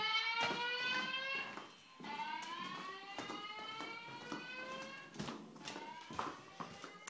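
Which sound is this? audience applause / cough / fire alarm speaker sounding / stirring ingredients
fire alarm speaker sounding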